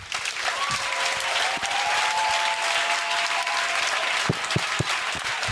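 A congregation at a church prophetic service applauds in sustained, dense clapping that stays loud and steady throughout, with a thin whistle-like tone running over part of it.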